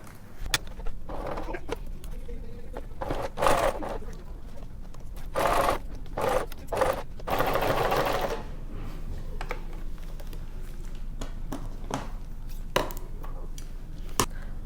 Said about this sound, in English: sew with our regular seam allowance across this way